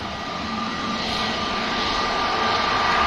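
An Aer Lingus airliner in retro livery climbs out after takeoff from Manchester Airport, a loud, steady jet roar with a faint whine, growing slightly louder throughout.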